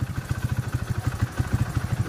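Motorcycle engine idling after a fuel refill during a carburetor overflow check, a close, steady low chugging with a fast regular pulse and no talk.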